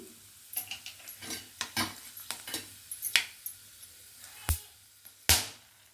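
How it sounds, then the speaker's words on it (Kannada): Whole fennel, cinnamon, cloves and cardamom dropped into hot oil for sauce-free fried rice, giving a soft, steady crackle with scattered spoon clinks and scrapes against the pan, and a few sharper taps. "ಸೋಂಪನ್ನು ಹಾಕ್ಕೊಳ್ತಾ ಇದ್ದೀನಿ ಇವಾಗ ಚಕ್ಕೆ ಲವಂಗ ಎಲ್ಲ ತೊಗೊಂಡಿದ್ದೀನಲ್ಲ ಯಾಲಕ್ಕಿ ಅದೆಲ್ಲ ಅದನ್ನು ಹಾಕ್ಕೊಳ್ತೀನಿ"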